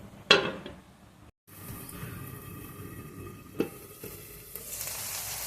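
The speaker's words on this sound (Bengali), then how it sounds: "এখন আমি ঢাকা দিয়ে এটা রান্নার জন্য বসিয়ে দেব" Hand-mixed maya fish with a little water sizzling in a covered pan, a steady frying hiss with a sharp lid clatter near the start and another knock partway through.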